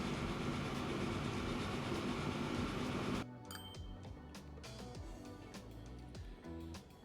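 A train runs in the Transport Fever 2 video game: a loud, dense rolling rumble for about three seconds, then a quieter stretch of wheel clicks and metallic clinks, with no talking.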